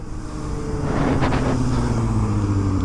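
A 2023 Kawasaki ZX-4RR KRT with a flashed ECU accelerates on a freeway: a steady engine drone with a high whine rising gradually in pitch, heard close and fairly loud over road noise.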